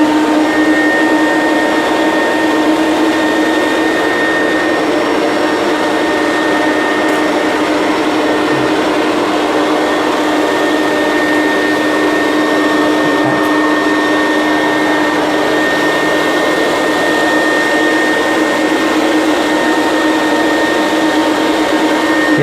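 A vacuum cleaner fitted with an air turbine hard floor tool runs in a steady, loud, unbroken drone with a constant whine, heard alone from start to finish.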